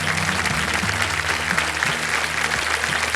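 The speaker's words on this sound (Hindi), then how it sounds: "तालियां बज जाए इनके लिए" A studio audience applauds at a television quiz show after a contestant quits with winnings, a dense, steady clapping held at an even level, with a low musical tone underneath.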